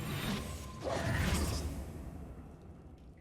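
A Reparo repair spell cast in the Hogwarts Legacy video game, a soft magical whoosh with low rumbling and creaking mechanical textures that swell near the start and fade out by the end.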